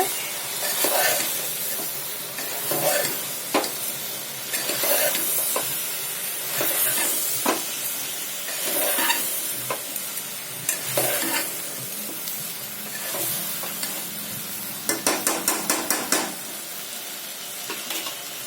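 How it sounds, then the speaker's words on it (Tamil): Sambar rice is stirred and mixed in a hot pan over medium flame, with repeated scraping strokes of a spoon against the metal under a constant sizzle and hiss, plus a short burst of quick clattering taps near the end. "உப்பு கொஞ்சம் கூட போட்டுட்டு எல்லாத்தையும் நல்லா மிக்ஸ் பண்ணி விட்டுக்கோங்க"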